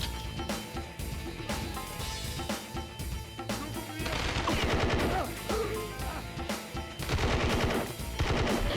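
Sustained automatic gunfire from the video game Fugitive Hunter: War on Terror, with dense rapid bursts and heavy impacts layered over game sound, loud and continuous throughout.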